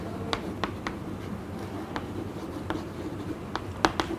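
Chalk or marker writing on a classroom board during a physics lecture: scattered short, crisp taps and scratches, moderately close, over a steady low room hum without talk.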